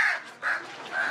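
Crow cawing in three drawn-out, harsh calls spaced evenly over about a second, fairly close and loud, with no other sounds around it.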